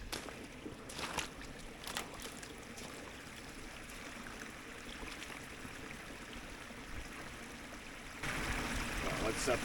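Water of a brook flows and trickles steadily around rubber boots worn by someone standing in the stream, a continuous watery wash that swells louder near the end.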